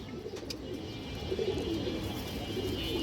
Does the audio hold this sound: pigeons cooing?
yes